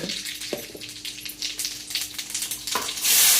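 Cumin seeds in hot oil give a continuous close sizzle with a few sharp crackles and spoon taps, the hiss swelling loud at the very end, likely as chopped onion and cucumber for a buttermilk cucumber sabji hit the pan.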